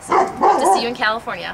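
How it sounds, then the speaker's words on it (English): A dog barks and yips a few times close by, overlapping with a person speaking. "That's my dog"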